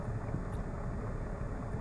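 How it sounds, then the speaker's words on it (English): An aircraft taxies out from the terminal toward runway 14, its engines giving a steady, close, broadband rumble and rush, unbroken and without talk, with some wind-like noise on top. "you can hear the engine noise"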